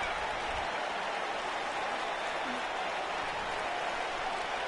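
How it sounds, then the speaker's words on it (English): Arena crowd in a wrestling video game giving a sustained ovation, a dense, even wash of applause and cheering throughout. "Getting a bit of an ovation from the crowd."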